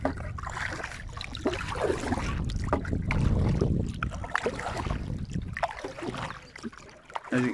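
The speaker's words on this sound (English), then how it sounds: "a little paddle over this way." A small boat used for trout fishing is paddled through water, with continuous splashing, sloshing strokes and some wind noise in a close outdoor scene.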